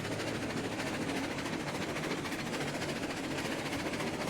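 Locomotive wheels roll in the railway game Railroads Online, a dense, steady rumble with a faint rhythmic clatter, heard close and continuous without any talking.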